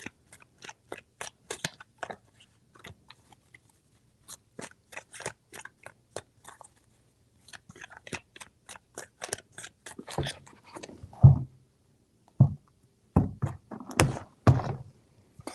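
Tarot cards are shuffled by hand in a series of crisp flicks and riffles, starting as quiet scattered taps and building into louder, denser bursts near the end, close up with no talking.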